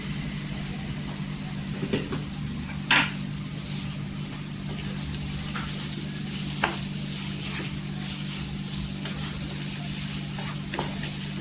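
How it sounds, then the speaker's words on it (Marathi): Spice masala of Kashmiri red chilli powder, Malvani masala and ghati masala frying in oil for a soybean, potato and cabbage curry, a steady close sizzle broken by a few sharp scrapes of stirring. "किती मसाला तेलावर परतून घ्यायचं"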